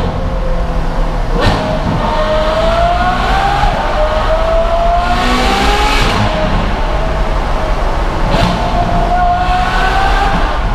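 A Ferrari F12 fitted with an Innotech IPE exhaust revs hard and loud, its engine note rising and falling in sweeping pitch climbs across several sustained pulls, continuous and close, with no voices.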